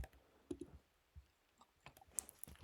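Quiet computer mouse clicks while using Canva's online editor: a few soft, close, dry clicks scattered over a couple of seconds, with faint ticking between them.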